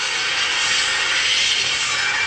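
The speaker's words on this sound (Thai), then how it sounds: "เร่งเครื่อง" A car engine revs hard at a steady high pitch in a mobile racing game played on a Samsung A31 phone, a loud continuous roar with no talk over it.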